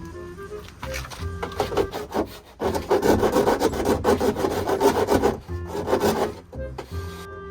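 A metal file rasps back and forth over the cut edge of a van's body panel in quick, loud, close strokes, with brief pauses between bursts.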